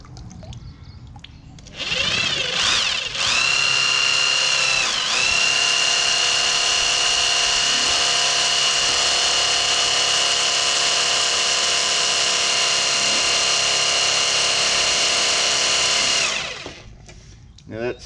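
A pump driven by an Aldi cordless drill spins up and runs with a loud, steady high-pitched whine for about fifteen seconds, its pitch shifting slightly at the start before winding down.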